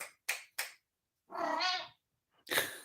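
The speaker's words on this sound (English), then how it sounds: "have a very vocal kitty tonight." A house cat meows indoors at night: a drawn-out, tonal meow in the middle follows a few short clicks and knocks, and another noisy burst comes at the end, all fairly close in a quiet room.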